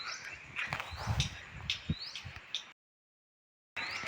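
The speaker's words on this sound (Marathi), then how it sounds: "पक्ष्यांचा आवाज बघा" Birds near a cashew orchard give several short rising chirps and tweets over soft rustling and light footsteps, fairly faint and outdoors, before a brief silence.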